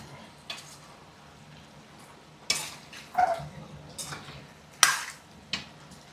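Masala stirred into chicken curry in a pan, with soft sizzling under a few sharp scrapes and clinks of a spoon against the pan, close and intermittent.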